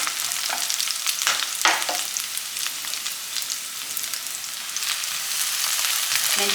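Chopped fenugreek leaves sizzle and fry in a pan with onions and green chillies for a pulao, with a steady crackling hiss and intermittent scraping stirs and clinks from a spatula.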